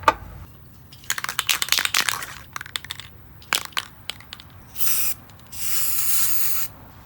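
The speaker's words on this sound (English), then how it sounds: "I'm going to spray a little spray paint on the edges of the cut just to keep it a little more rust proofed" Aerosol spray paint applied to the cut edges of a Curt trailer hitch on a 2019 Subaru Crosstrek, two steady hissing bursts near the end after a stretch of rattling and clicking handling noise, close by with no talk.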